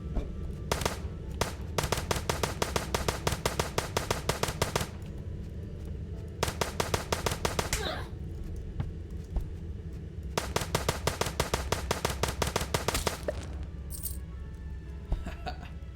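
Automatic gun in the space game Starbound firing in long rapid rattling bursts, evenly spaced shots repeating in several strings separated by short pauses, crisp and fairly quiet.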